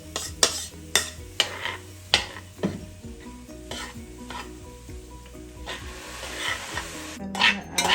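Rice with soy sauce being stir-fried in a pan: a steady sizzle under a run of clattering utensil scrapes and knocks against the pan, busy at first and then settling into continuous frying.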